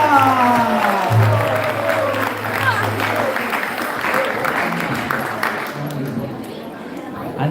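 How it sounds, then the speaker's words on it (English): An audience at a Gaur Purnima celebration applauds a dance singer with a broad wash of clapping and crowd murmur that slowly fades, and a voice is heard near the start. "Can we have another massive round of applause for the dance"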